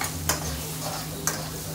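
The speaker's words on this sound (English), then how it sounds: "Your onions are burning, man. Give that a little stir." Onions fry in a pan on a busy restaurant line, a steady sizzle with a low steady hum underneath and two sharp stirring clicks of a utensil against the pan.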